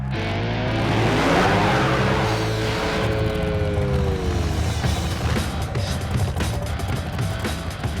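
NHRA drag race cars on Final Eliminations Day, with a loud engine roar and rising whine that peaks early, then a sustained rumble as the cars pull away, with faint crowd and track ambience.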